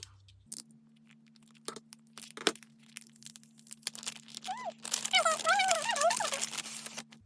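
A random sticker pack is opened by hand, giving scattered crinkles and small cracks of packaging that build into denser rustling and tearing near the end. A faint steady hum sits underneath, and a voice makes a brief exclamation as the pack comes open.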